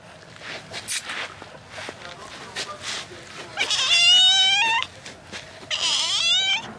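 A cat lets out two long, harsh, warbling yowls, loud and close, following softer rustling and shuffling movement; people talk faintly in the background at the start.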